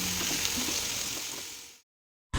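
Ridge gourd pieces sizzle with green chilies in a hot pan, a steady soft frying hiss that fades out, falls silent briefly, then returns.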